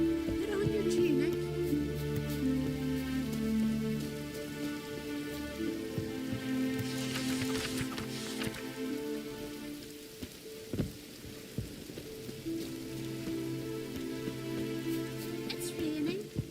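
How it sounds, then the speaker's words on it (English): Steady rain falling in the Witcher 3 video game, a continuous wash of patter on surfaces beneath a sustained musical score, with a few sharper drops and a faint rumble now and then. "It's raining. Put on your tunic."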